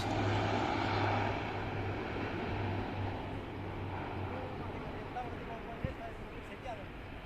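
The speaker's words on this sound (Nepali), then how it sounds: "भर्खरै प्लेन ल्यान्ड भइरहेको यहाँ" A loud airplane engine roars steadily nearby as the plane lands at Tumlingtar Airport, slowly easing in intensity as the aircraft rolls along.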